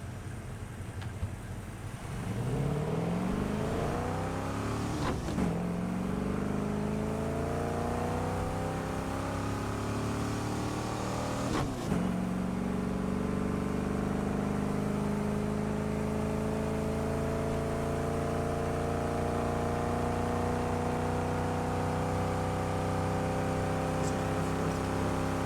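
A high-performance car engine revving hard and climbing through gears, loud and sustained with rising whine and sharp shift breaks, no talking over it.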